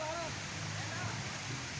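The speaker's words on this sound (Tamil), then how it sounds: "இதுவும் வாட்டர் ஃபால்ஸ் தாங்க, அல்டிமேட் ஃபால்ஸ் இது." Artificial waterfall at the VGP amusement park in Chennai, a steady broadband rush of falling water pouring continuously at close range, with faint voices mixed in under the constant roar.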